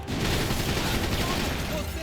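Enemy gunfire in the video game Max Payne 3, a steady, fairly faint rattle of shots with a noisy, muffled quality and continuous background din, with no clear pauses.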